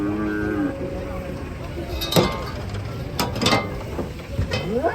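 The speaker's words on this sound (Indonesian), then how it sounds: "Ini keren, banyak sapi unik guys di sini." Cows in a herd moo loudly and close by, with several long, drawn-out lows and people chatting in the background.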